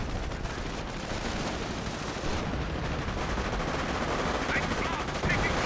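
Battle din in Company of Heroes 1: dense, continuous gunfire and artillery blasts roar without a break at a loud, steady level, with a faint voice now and then underneath.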